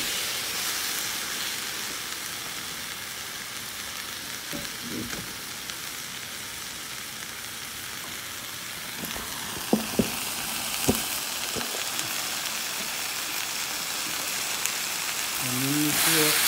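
Garlic fries over high heat in a pan alongside steak, a broad steady sizzle and hiss with a few brief clinks of utensils near the middle, no clear speech.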